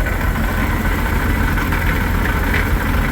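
A 1941 Dodge WC-6 truck engine idles close by, its low drone continuous, with a faint metallic rattle, like a bearing, running through it.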